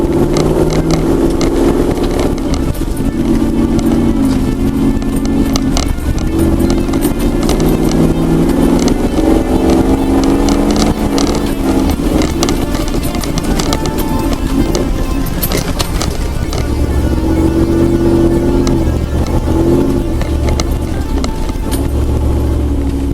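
Land Rover Defender engine droning steadily through a lap, a loud continuous low hum with shifting pitch as it accelerates and eases, no talking.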